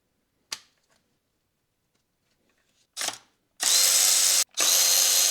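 A power tool undoes the 10mm solenoid bolts on a BMW N43 engine, with a couple of sharp clicks and a short burst before two loud, close whirring runs separated by a brief pause.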